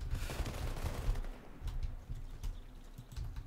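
A Thompson M1928 submachine gun fires in Warface. A dense, rattling burst comes first, followed by a string of separate, sharper shots that sound moderately close.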